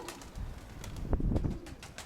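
A female pigeon bursts into flight with a quick flurry of wing flaps midway, amid soft coos and outdoor background noise.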